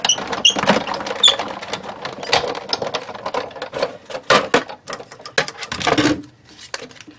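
A die cut machine rolls card stock through in close, loud, uneven mechanical cranking with creaks and clicks, pausing briefly before a final stretch.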